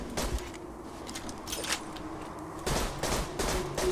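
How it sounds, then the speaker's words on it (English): Dahl weapon burst fire in the video game Borderlands 2, short rapid bursts of gunfire in quick clusters, loud and close with brief gaps between volleys. "if you just look down the sights with uh, any Dahl weapon, it's going to burst fire like this"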